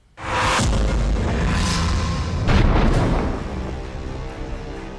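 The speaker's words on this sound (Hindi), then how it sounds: "जबरदस्त धमाका हुआ और धुएं का गुबार छा गया।" A sudden loud IED blast booms, followed by a long rumbling roar with a few further blasts, then a slowly fading low rumble, in Baramulla.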